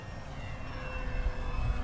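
An FMS F3A Explorer RC model airplane passes overhead, a thin steady electric motor whine with a faint high tone, rising slightly in loudness over a short stretch against outdoor wind noise.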